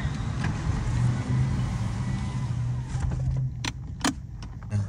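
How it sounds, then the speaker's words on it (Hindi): A Lexus hybrid car idles just after being started, giving a low, steady hum with a few brief clicks and rattles near the end. "ये स्टार्ट हो गई है गाड़ी।"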